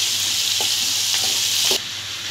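Vegetables, including peas and tomatoes, sizzle steadily in a hot pan for meat with vegetables, with a few soft scrapes of stirring before the frying noise drops off abruptly near the end; no talking.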